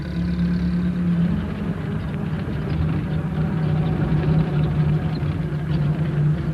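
A postman's small van drives along a valley road on a sunny morning, its engine a steady low hum and rumble that holds at an even level throughout, close and continuous.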